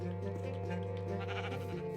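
Sheep bleating during farm work moving a flock into tall grass, a sustained nasal call with layered harmonics holding steadily across the whole stretch over a constant low background hum.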